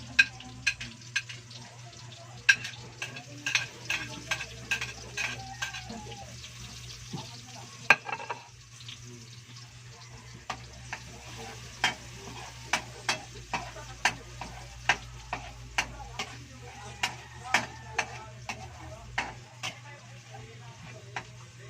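Garlic frying in a pan with a soft continuous sizzle, punctuated by frequent sharp clicks and taps of a utensil stirring against the pan, close and fairly quiet.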